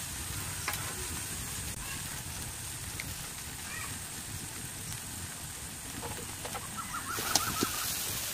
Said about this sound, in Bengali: ভেজে রাখা ডিমগুলো দিয়ে দিচ্ছি।